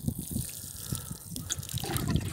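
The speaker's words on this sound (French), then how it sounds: "avec l'arrosoir, on va essayer d'arroser" Water pours from a watering can onto garden soil sown with beets, a soft continuous trickle and splash at close range, steady throughout with no voices.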